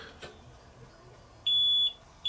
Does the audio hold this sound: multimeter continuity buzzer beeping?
yes